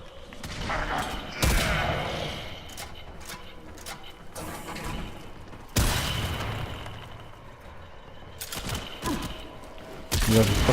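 The Zarr cannon in the video game Warframe fires several heavy, booming blasts at irregular intervals, each sharp onset followed by a rumbling decay, with quieter mechanical clatter between shots.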